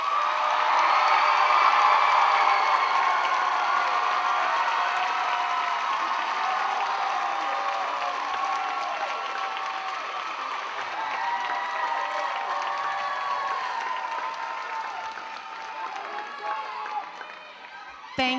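Loud crowd cheering and applauding for Kilgore College Rangerette candidates at a Showoffs event, a dense sustained roar of claps and shouts that swells early and slowly eases over the whole span.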